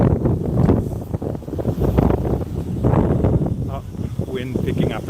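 Gusty outdoor wind buffets the microphone with heavy low rumbling on a walk toward Tokyo Tower, loud and uneven, with talk partly heard under it.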